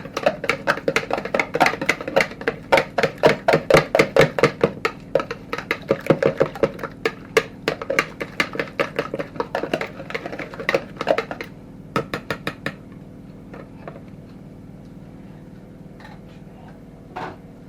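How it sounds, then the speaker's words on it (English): A whisk clacks rapidly against a bowl, beating eggs with salt and pepper for a cauliflower pizza crust, fast rhythmic tapping that slows and thins out toward the end, close and fairly loud, no talk. "we're going to whisk this all together"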